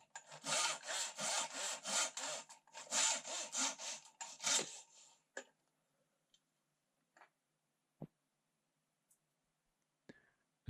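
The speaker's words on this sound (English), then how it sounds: "You can also cut a 1-inch length from your twig in preparation for making the clasp." A small handsaw cuts a short length from a twig with about a dozen quick, raspy back-and-forth strokes for several seconds, followed by a few faint scattered clicks and taps.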